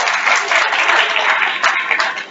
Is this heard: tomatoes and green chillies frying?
no